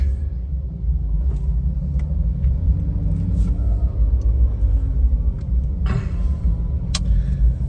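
Congested road traffic in a marketplace area of Isarn, Thailand, heard from inside a car: a continuous low engine rumble with occasional faint clicks and knocks.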